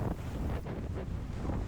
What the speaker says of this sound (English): These strong winds today were quite unusual in that they were downstream winds.